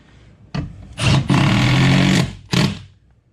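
A power drill or impact driver drives a lag bolt into a wall while a TV mount is hung: a brief whir, then a longer sustained loud grinding burst, and a final short burst, close by.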